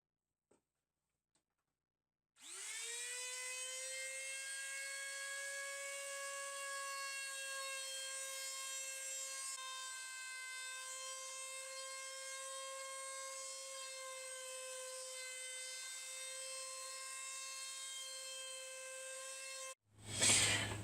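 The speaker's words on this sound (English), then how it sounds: "now I've run a route around the inside of the slot in the baffle from both sides just to try and smooth the airflow a bit" A router cuts a slot in a plywood speaker baffle in a small shed, starting with a sharp rise into a loud, steady, high-pitched whine that holds for about seventeen seconds before cutting off abruptly into a brief rumble.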